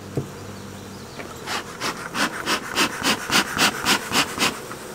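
Bees buzz around an open beehive while a frame of food is worked out, a rhythmic series of scraping, rubbing strokes against wood repeating steadily and growing louder over a constant hum.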